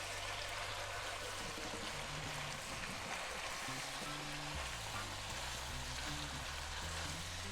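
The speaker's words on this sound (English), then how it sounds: "take a bit of the water, of the cooking water, and we add it" Pasta cooking water goes into a pan of rigatoni with Italian sausage and mushrooms, producing a steady, loud hiss and sizzle with running water throughout, with no voices.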